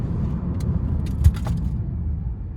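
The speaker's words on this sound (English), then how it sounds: "Let's check out these brakes, okay?" A red 2012 Mercedes SLS AMG brakes hard from about 35 mph, heard from inside as a close, low engine and road rumble with a single thump partway through, then a settling drone.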